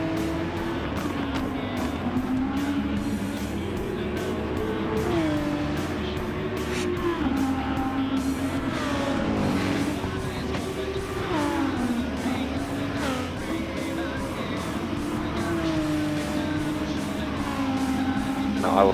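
Race car engine droning loud and steady with rising and falling pitch through gear changes, chasing a GTR for third place during a race lap, with no talk over it.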